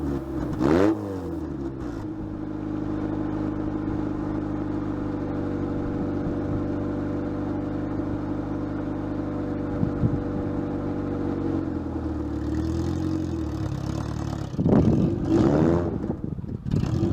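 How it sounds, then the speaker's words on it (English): Engine of an Acura Integra running with no exhaust installed, a loud, rough, steady drone with tractor-like harmonics holding for many seconds, broken by short throttle blips near the start and end. "So in this clip, I don't have an exhaust in the car at all. It sounds really, really loud, and it sounds like a tractor."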